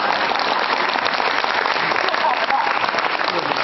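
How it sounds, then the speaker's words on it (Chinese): An audience applauds at a Chinese crosstalk comedy show, giving a dense, steady wash of clapping that fills the whole moment without pause. "可以鼓掌了。"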